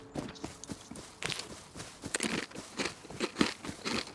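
Crunching footsteps from the Rust video game, a quick irregular run of gritty steps close up and fairly loud, with no talking.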